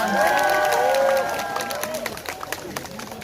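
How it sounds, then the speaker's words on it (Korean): Crowd at an outdoor political rally in Gwangju applauds and cheers for a child about to read a letter, loud at first and easing off, with voices and some shouting mixed in. "여러분 박수 부탁드립니다"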